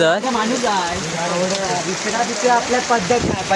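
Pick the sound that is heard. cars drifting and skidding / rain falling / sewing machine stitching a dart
rain falling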